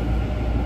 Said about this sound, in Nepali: हाम्रो चाहिँ ट्रेन आइसकेछ